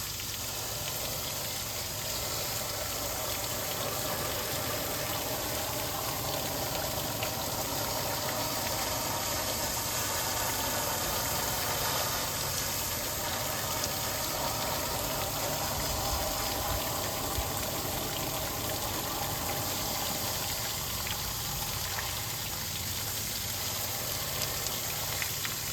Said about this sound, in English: as I'm rinsing out the coil, I've noticed that there's water actually going through it